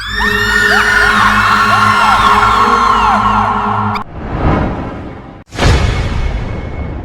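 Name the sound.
shadow vanishing with a scream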